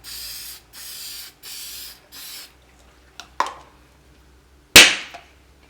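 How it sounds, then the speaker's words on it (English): Several rattling shakes of an aerosol fixative spray can, then a couple of clicks and a sharp, loud hissing spray burst up close, sealing a pastel drawing. "Shake this, and then just spray that so that it's sealed."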